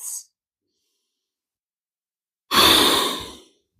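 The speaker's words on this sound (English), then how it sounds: "Couple of breaths." A single deep exhale during a yoga forward fold, a long breathy whoosh lasting about a second. A brief breath comes just before it, and quiet follows.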